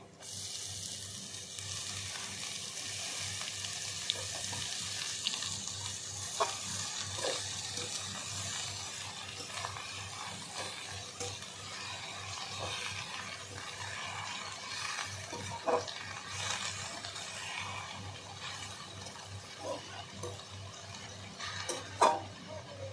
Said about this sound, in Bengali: পেঁয়াজ রসুন ভালো করে লাল করে ভেজে নিয়েছি এবার শাকগুলো সব দিয়ে দেবো কড়াইতে